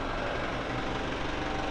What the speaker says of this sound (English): I always let my tractor warm up, and I'm going to let that warm up while I'm showing you something